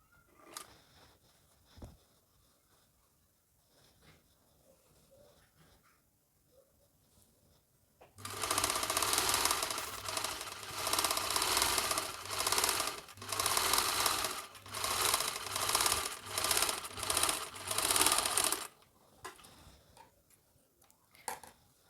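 A sewing machine stitches the seam of a kimono top, running steadily and loudly for about ten seconds in short bursts with brief pauses, after a quiet stretch of faint handling.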